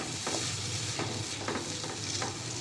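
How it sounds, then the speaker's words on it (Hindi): Onions sizzle steadily in a hot pan, a constant bright crackle with occasional soft stirring scrapes, close and fairly loud, no voices. "तो इसको हम अब अच्छी तरह से फ्राई करेंगे"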